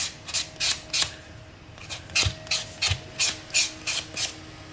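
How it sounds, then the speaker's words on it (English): A buffing block is rubbed over Kiara Sky dip powder nails in about eleven quick, rhythmic scratchy strokes, close and fairly loud, with short pauses between them and no voices. "I'm going to take my buffing block, and I'm just going to really kind of just smooth that out a little bit"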